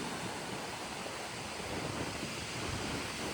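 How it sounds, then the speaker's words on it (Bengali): Sea waves and wind on the Digha coast make a steady broadband rush of surf with wind buffeting the microphone, continuous and fairly loud, with no talk. "আর দারুণ ঢেউ দিচ্ছে।"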